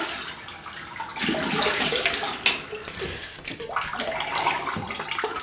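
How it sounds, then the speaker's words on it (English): Cold water runs from a tap for a face rinse after a shave, a steady splashing rush that swells louder partway through with brief spattering bursts. "Right, cold water rinse, and I'll have a face wash."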